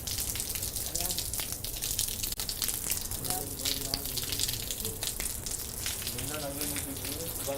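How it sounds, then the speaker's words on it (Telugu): Heavy rain in Hyderabad, falling as a dense, steady wash of drops and splashes, with faint voices murmuring underneath throughout. "ఒక్కసారి ఆ చినుకుల సౌండ్ విందాం"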